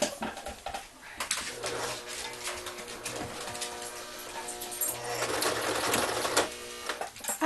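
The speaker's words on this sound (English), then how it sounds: "We're going to line it up and we're going to sew right on that line." A sewing machine stitches along a line on fabric for a phone pillow, a close, steady whirring hum that briefly pauses near the start before running on continuously.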